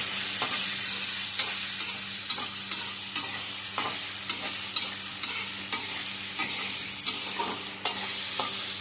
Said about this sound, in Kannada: ಚೆನ್ನಾಗಿ ಫ್ರೈ ಮಾಡಿದ್ರೇ ಪನ್ನೀರ್ ರುಚಿ ಟೇಸ್ಟ್ ಬರುತ್ತೆ